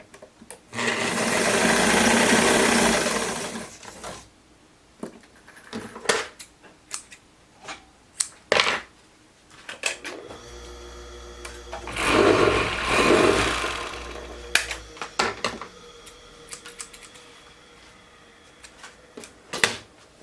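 A sewing machine stitches the seam of a gypsy-style jumpsuit in two loud whirring bursts, separated by sharp clicks and clacks as the fabric is handled, with no talking.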